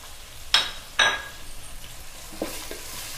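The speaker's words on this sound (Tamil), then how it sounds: "நல்லா மிக்ஸ் பண்ணிக்கோங்க ஒரு உப்பு கொஞ்சம் ஆட் பண்ணிக்கோங்க" A spoon stirs a pan of paruppu sambar base with onions and salt, two quick loud scraping strokes followed by softer stirring and a low sizzle.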